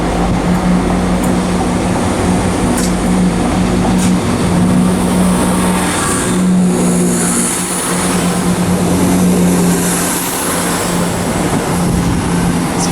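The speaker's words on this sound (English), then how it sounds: "We've also got our first ScotRail HST from Edinburgh as a whole" A ScotRail HST passenger train arriving at Haymarket station in Edinburgh, a loud steady diesel rumble and rushing roar filling the whole stretch, close by with no talk.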